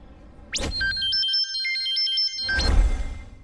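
A mobile phone ringtone plays a short electronic melody loudly and nearby, framed by bursts of handling noise.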